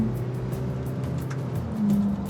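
An MG Majestor SUV's engine revs to about 3500 RPM, a steady mid-pitched drone heard from inside the cabin that swells slightly near the end, with no talking over it.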